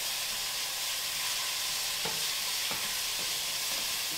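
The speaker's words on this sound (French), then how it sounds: "je remélange bien mes oignons et mon verre de poireau" Sliced onions and leek greens sauté in a pan for a fish stock, giving a dense, even sizzle up close with a few soft scrapes of a spoon stirring them, with no voices.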